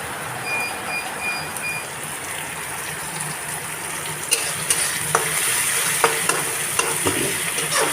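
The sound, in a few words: stirring food frying in a pan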